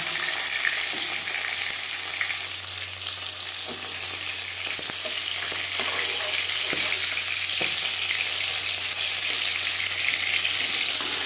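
Fish pieces and fish heads frying in hot oil for a fish curry with peas and tomato, a continuous, even sizzle heard up close for several seconds, with occasional soft ticks and pops and no talking.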